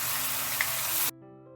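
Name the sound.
peanut curry paste with tamarind sautéing in a pan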